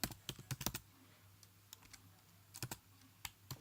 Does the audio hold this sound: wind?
no